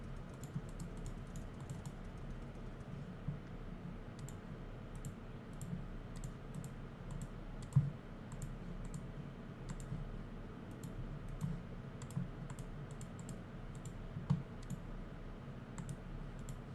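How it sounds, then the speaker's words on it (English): Mouse buttons click steadily and sparsely over a constant low hum while a point-and-click adventure game plays, a few louder clicks standing out near the middle. "It's that time when I start clicking random things on random things."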